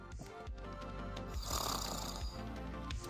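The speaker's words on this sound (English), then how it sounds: "I do not like that I snore when I sleep." Snoring from a sleeping character in modded Minecraft rises and falls in slow, rhythmic breaths, layered over steady game sound.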